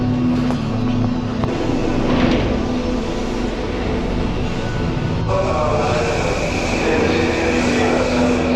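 Loud, continuous rumble of a train in motion in Japan, with rattling carriage noise and occasional high squeals from the wheels.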